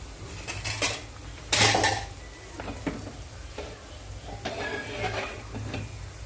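Fish pieces dropped one by one into a pan of oil for a mango fish curry, with clanks of utensil against pan, a louder clatter early on, and soft sizzling between.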